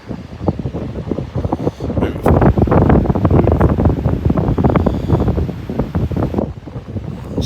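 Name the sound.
wind blowing at the beach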